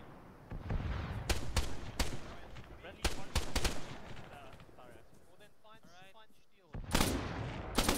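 Gunfire in the ARMA 3 video game: several sharp, loud shots crack in irregular bursts, some close together, with a quieter lull of faint activity before another dense volley at the end.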